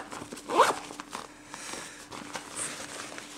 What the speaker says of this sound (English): And then now you are just going to zip it up.